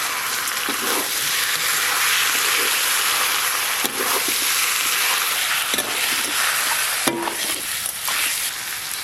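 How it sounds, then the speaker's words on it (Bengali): Chicken sizzles as it hits hot oil in a pan with fried ginger, garlic and onion, a loud steady crackle with occasional stirring scrapes and no talk. "আদা রসুন পেঁয়াজ ভালো করে ভাজা ভাজা হয়ে গেছে, এবার ধুয়ে রাখা চিকেনগুলো দিয়ে দেবো"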